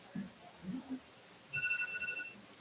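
A phone rings during a budget briefing meeting, a faint electronic two-tone trill repeating for under a second, with quiet voices talking nearby.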